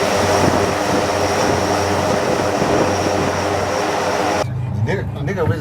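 A carrier-based aircraft, such as a KJ-600, J-35 or J-15T, launches by catapult from the deck of the Chinese carrier Fujian. A loud, continuous jet-engine roar fills the scene before dropping away near the end.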